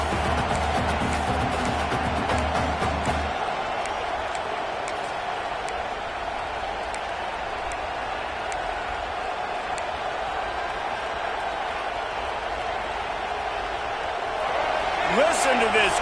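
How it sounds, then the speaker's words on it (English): Football stadium crowd in Florida roaring to back their defense, a broad sustained wash of crowd noise with some rhythmic thumping early on and a commentator's voice over it, swelling again near the end. "Listen to this crowd just shaking the girders of this place trying to help their defense."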